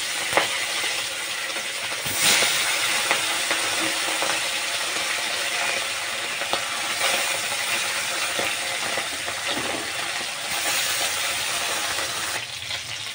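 A second batch of small puti river fish fries in hot oil, a continuous close sizzling hiss dotted with light crackles and spits, steady and unbroken without any voices.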